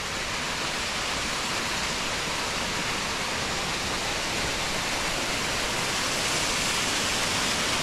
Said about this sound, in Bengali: অপূর্ব ঝর্ণাটা।